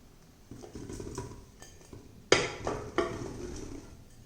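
Cut, washed aubergines are tipped into a pan with a few light clatters and one sharper clank of pan and utensil, close and fairly quiet.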